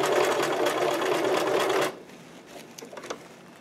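Fast, even whirring stitches from a sewing machine sewing puffed sleeve fabric for a cosplay costume, running loud for about two seconds and then stopping, followed by faint handling clicks.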